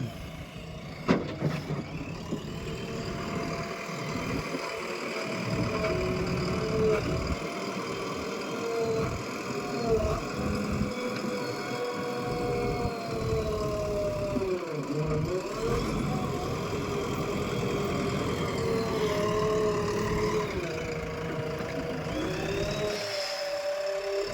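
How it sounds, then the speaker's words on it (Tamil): A JCB backhoe loader's diesel engine runs continuously while the machine drives along, its drone rising and falling in pitch with small rattles and knocks, close and unbroken, with no talking. "ஜேசிபி தான் சட்டில் ஷிஃப்ட் தான் அடிச்சா டக்கு டக்குன்னு போய்கிட்டே இருக்குது"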